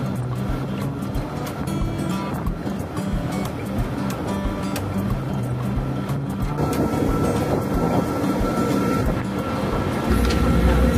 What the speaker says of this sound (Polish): Większość trasy pociąg przejeżdża w tunelu, do którego właśnie wjechaliśmy.